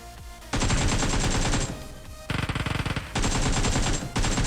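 Automatic gunfire from the video game PUBG Mobile rattles loudly in several sustained bursts, separated by brief pauses, with one burst of rapid distinct shots in the middle and no speech over it.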